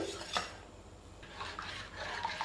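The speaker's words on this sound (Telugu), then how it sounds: "సిమ్లో ఉంచుకొని కొంచెం కొంచెంగా పాలని యాడ్ చేసుకుంటూ ఇలా కలుపుకోవాలి" A spoon stirs wheat-milk halwa in a pan over a low flame on the stove as milk is added little by little. Soft, intermittent scraping and clinking against the metal is heard close up, without speech.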